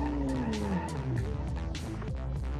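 Tires squeal as a car brakes hard in the BeamNG.Drive driving game, a continuous loud screech with a falling tone over engine noise, lasting a couple of seconds with no talk.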